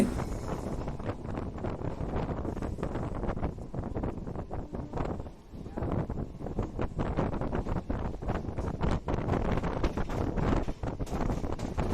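A MEMU passenger train pulls out on the Mettupalayam–Coimbatore line, heard from aboard as a continuous loud rush of wind noise buffeting the microphone along with rumbling motion, with a brief dip midway.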